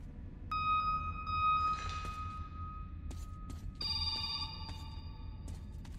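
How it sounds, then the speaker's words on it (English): A telephone ringing in the video game Metro 2033, two bursts of electronic ringing with faint clanks and ambient game noise underneath, fairly quiet. "Is that a phone?"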